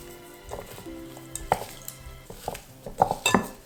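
Chicken being mixed with meadow herbs in a bowl, with a run of close clattering, scraping and clinking knocks that grow busier toward the end, without any speech.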